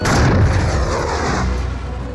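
A World War II tank battle: a gun fires at a tank, a heavy low boom with rumbling decay that fills the short moment, loud and close, with no voices.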